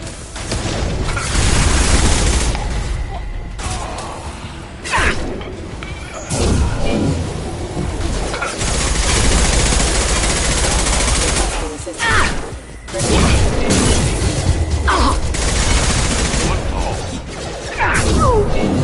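A firefight in Mass Effect 2 with heavy gunfire, loud booms and crashing impacts that carry on almost without a break, and voices are mixed into the battle.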